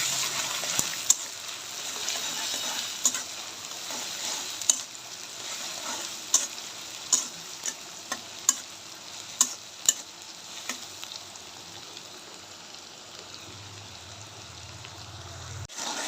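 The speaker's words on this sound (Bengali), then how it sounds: "পেঁয়াজগুলো একটু লাল লাল করে ভেজে নেব।" A steady soft sizzle of food frying in a pan, with occasional sharp clinks and scrapes of stirring throughout.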